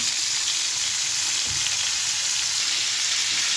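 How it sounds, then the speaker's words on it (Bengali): Prawns frying in a home kitchen pan give a steady, close, continuous sizzle and hiss throughout, with a faint soft knock in the middle and no voices. "আর এক সাইডে হলো গিয়ে চিংড়ি মাছ ফ্রাই হচ্ছে"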